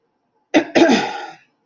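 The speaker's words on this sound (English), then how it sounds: "I apologize for having to clear my throat." One person clears their throat in two quick, rough bursts, close and loud, followed by silence.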